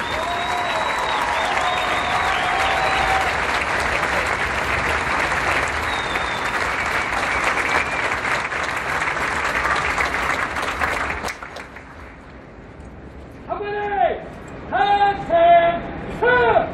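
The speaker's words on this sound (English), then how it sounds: "please join us in a warm round of applause for the officers and drill instructors of Company C" Audience applause for the officers and drill instructors of a Marine Corps company, loud sustained clapping for about eleven seconds that fades out, followed by brief bursts of tonal sound.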